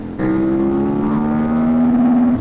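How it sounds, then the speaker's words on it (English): A KTM 990 Super Duke motorcycle engine, 2008 model, snaps up to a loud, sustained high-rev drone held against the rev limiter for about two seconds, then drops away abruptly. "that's the rev limiter there"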